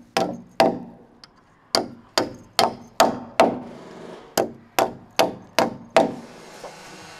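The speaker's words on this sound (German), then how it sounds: "Bei Daniel Duch sitzt jeder Hammerschlag." A carpenter drives nails into the timber of a heavy roof frame with a hammer, landing about a dozen sharp, forceful blows in quick groups, each crack ringing briefly through the wood before the next strike.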